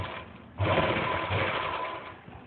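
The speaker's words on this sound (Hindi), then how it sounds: "इस तरह से रखते हुए इस पे सिलाई लगा लेंगे" Sewing machine stitching a Patiala salwar seam at a roadside boutique, starting up after a brief pause and then running in a steady, close, continuous whir with faint traffic beneath.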